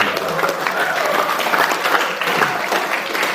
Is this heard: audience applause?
yes